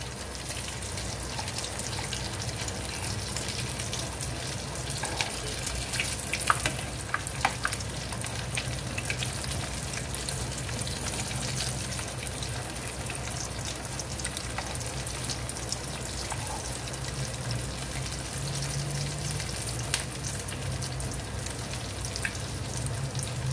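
Hara bhara kababs fry in a pan with a steady, dense oil sizzle and occasional light pops and crackles, constant and close throughout with no talking.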